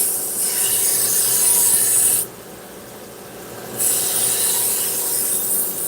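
A knife edge being sharpened on a stone, heard as a steady, close, continuous rasping scrape that pauses briefly partway through and then resumes.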